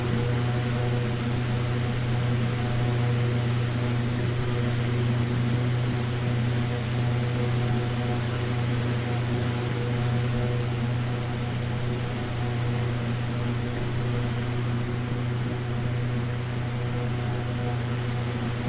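A Carenado PC-12 turboprop engine drones steadily in a flight simulator cabin, a constant tonal hum with broadband hiss that holds unchanged for the whole stretch, with no voices.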